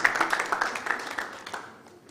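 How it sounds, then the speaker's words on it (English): Applause at a conference for a student, a modest round of clapping that starts fairly strong and tapers off over two seconds. "Please, a round of applause for her."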